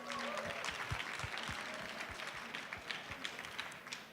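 Audience applause after thanks at a high school Poetry Out Loud finals event, a steady wash of many hands clapping at a moderate distance, sustained throughout without speech.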